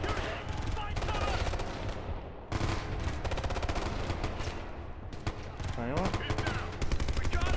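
Rifle fire in the shooter game Ghost Recon Future Soldier, dense rapid bursts of shots filling the scene almost without pause, loud and close, with a brief gap midway and a voice speaking over it.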